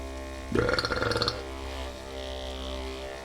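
A single loud, drawn-out burp lasting under a second, rising abruptly and then fading into a quiet room with steady low hum, no talking alongside it.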